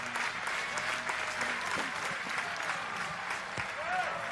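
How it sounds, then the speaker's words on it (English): A stadium crowd at a European athletics team championship applauds a shot put athlete, a steady wash of clapping and cheering heard at a distance under a commentator's voice throughout. "the crowd applauding"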